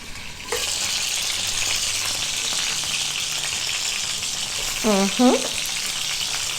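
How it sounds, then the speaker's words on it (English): Turkey bacon hits hot oil in a pan and breaks into a loud, steady frying sizzle that runs throughout, with a short voiced sound briefly rising over it near the end. "So this oil, what I'm going to do is I'm going to add my bacon."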